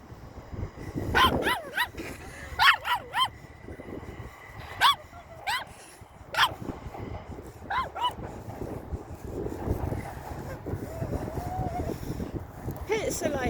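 A dog on a walk barks in short sharp bursts with high whimpers and yips between them, close and loud, separated by brief pauses, with a person speaking now and then.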